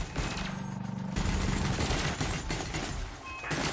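Rapid spaceship cannon and laser fire in the Elite Dangerous space game rattles out in a dense, continuous burst of shots, loud and steady over a droning engine hum.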